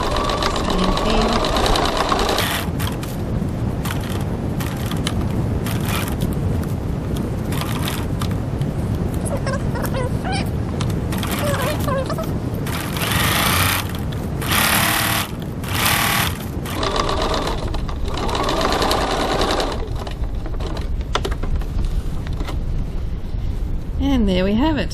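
A sewing machine stitches a crossbody bag in a fast, continuous mechanical whirr with rhythmic needle clatter, broken by short pauses and speed changes. A voice talks faintly underneath.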